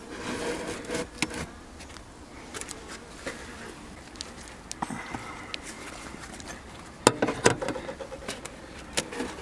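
Honeybees hum faintly around an opened nucleus hive in winter, a low steady drone beneath scattered sharp knocks and scrapes of hive handling that cluster louder near the end.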